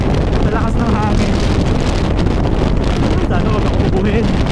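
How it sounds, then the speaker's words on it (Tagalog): Strong wind buffets the microphone in steady, loud gusts for the whole stretch, a continuous roaring rush with no pauses. "Sa lakas ng hangin."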